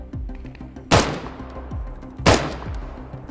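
Two heavy, booming gunshots in the video game Deadside, spaced over a second apart and echoing, with lighter distant pops in the background.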